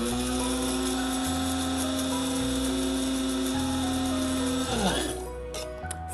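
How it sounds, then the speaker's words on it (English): An electric spice grinder whole-spice grinding to a coarse texture: a steady, whining motor hum with a rattling churn, winding down and stopping near the end. "to activate the grinder and it's going to start grinding"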